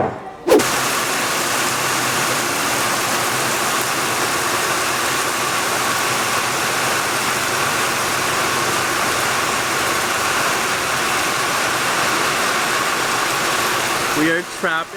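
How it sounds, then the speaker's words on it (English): Heavy rain pours at night in the Maldives. It makes a steady, dense hiss that fills the whole scene, with voices faintly underneath. "in the pouring rain."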